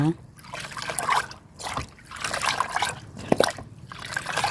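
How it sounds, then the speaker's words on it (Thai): A liquid plant fertilizer mixture is stirred in a container, giving soft sloshing and dripping sounds, close and moderately loud, with someone talking over the stirring. "แล้วเราก็คนส่วนผสมให้เข้ากันนะคะ"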